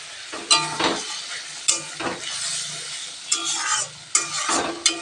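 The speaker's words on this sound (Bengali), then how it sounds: "এবার এভাবে কষাতে থাকবো" Ridge gourd cooking with poppy seed paste, a little sugar and mustard oil in a pan, sizzling steadily while a spatula stirs and scrapes in several loud bursts, close up.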